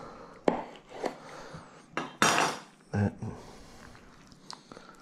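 A knife cuts firm, partly frozen pork chops from a farm pig on a board. A few distinct knocks, scrapes and clacks sound close by against quiet background noise.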